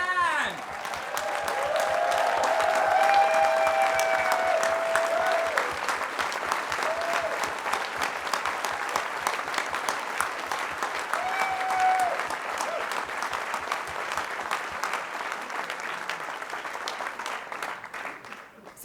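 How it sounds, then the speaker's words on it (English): Sustained, rousing applause from an audience at a cultural diversity awards ceremony, standing to honour the nominees; dense clapping continues for the full stretch, slowly thinning toward the end, with a voice over the crowd at moments. "please stand so that we can all recognize you with a rousing, and I mean rousing, round of applause"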